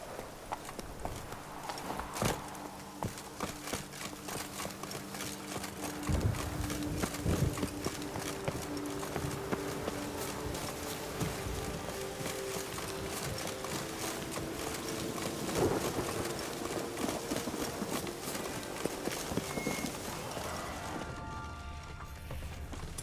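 Roach the horse trots in The Witcher 3, hooves clip-clopping in a steady rhythm at moderate distance beneath wind and ambient game sound.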